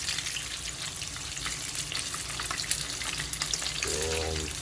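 Slices of Spam fry in a pan, a continuous close hiss and crackle of hot fat with fine popping, steady and fairly quiet, a brief low hum near the end.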